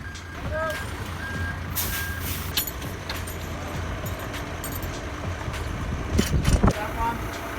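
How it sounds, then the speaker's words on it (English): Delivery truck carrying building blocks arrives at a house site, sounding a few high reversing beeps over its engine rumble and hiss of air brakes, with louder clanks and knocks near the end. "Later that day, the truck with the blocks arrived and they were laid out next to the house."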